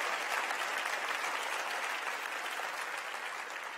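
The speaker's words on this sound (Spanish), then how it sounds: "Denle un aplauso otra vez al Señor, por favor." A church congregation at a Sunday service breaks into steady, sustained clapping that stays dense and even, then eases off slightly near the end, with no voices over it.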